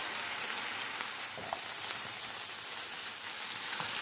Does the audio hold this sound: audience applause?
no